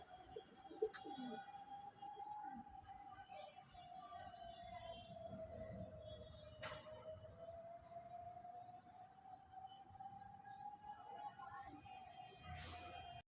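A Lal Jiriya McDas cock pigeon, a fully mature bird, is near a long, faint, wavering tone that holds steady throughout, with quiet background noise and occasional small clicks.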